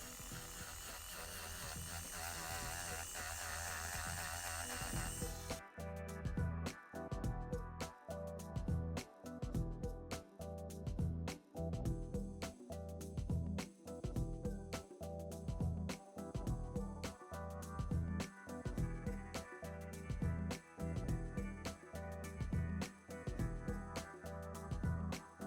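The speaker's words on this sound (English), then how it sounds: "I'm just gonna get now my filer and just start filing off" An electric nail file buzzes steadily against gel polish on fingernails, a close, continuous whine broken by short rhythmic pauses as it lifts off and touches down again.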